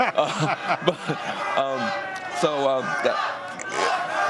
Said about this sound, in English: They're booing your candidate.